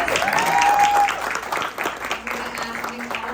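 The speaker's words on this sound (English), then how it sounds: "Give her a huge applause." An audience at a horror convention Q&A panel applauds in a loud, sustained burst. A brief whistle rises near the start, and the clapping slowly eases off under a murmuring crowd.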